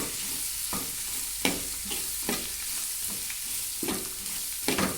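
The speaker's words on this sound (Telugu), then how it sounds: "ఓ గట్టితో తిప్పితే అవి నలిగిపోతాయి ఉల్లిపాయలు" Onions frying in a pan and being stirred, a steady sizzle broken by sharp scraping strokes of the spatula at irregular intervals, close and fairly quiet with no talking.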